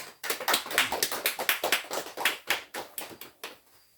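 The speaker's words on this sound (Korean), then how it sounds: "여러분 깊은 축하의 박수를 보내주시기 바랍니다" A church congregation claps in a fairly sparse, uneven rhythm for about four seconds, with individual claps clearly distinguishable, close and moderately loud, and trailing off toward the end. Nobody talks.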